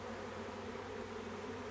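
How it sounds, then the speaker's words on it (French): A few honeybees buzz near a wooden hive, a steady soft drone that holds evenly for the whole short stretch with no other sounds. "Là la ruche en bois à côté, rien de plus méchant, quelques abeilles"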